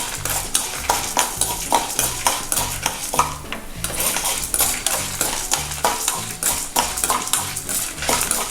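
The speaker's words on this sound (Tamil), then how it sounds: "இப்போ ஹை ஃப்ளேமில் வச்சுட்டு நம்ம வறுக்க ஆரம்பிச்சுக்கலாம்" Coriander seeds dry roasted in a pan over high flame, with a spoon or spatula repeatedly scraping and clinking against the metal in a steady stirring rhythm, moderately close.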